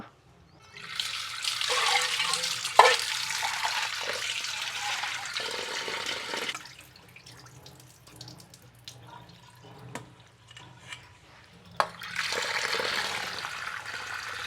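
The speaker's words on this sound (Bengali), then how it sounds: "আর এখন মাছ কাটা ধুয়ে নেব" Tap water runs strongly while cut pieces of maya fish are rinsed in a kitchen, a steady close splashing gush from about one to six seconds, then softer trickles and drips, then a second burst of running water near the end.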